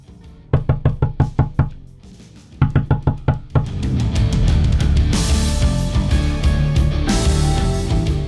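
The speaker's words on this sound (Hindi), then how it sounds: "वापस आता है तो दरवाजा खटखटाता है" Knocking on a door in a Hindi TV drama scene: two quick bursts of about six sharp raps each, followed by loud dramatic background music that swells and continues.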